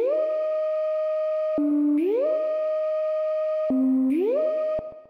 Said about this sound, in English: I just did some weird little sine wave sound design with Aircan noise on Serum